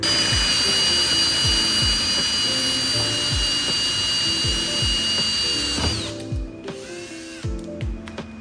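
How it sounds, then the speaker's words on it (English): A power drill whirs steadily close by, drilling out a metal rivet on a car's rear diffuser, then winds down and stops, leaving a few faint clicks and taps. "you literally take a drill bit and you're gonna drill right here"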